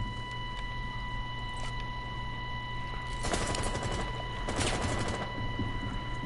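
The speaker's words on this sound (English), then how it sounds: "Yo, he's shooting at me." Two short bursts of rapid video-game gunfire, close and crackling, over a steady electronic hum, with no talking.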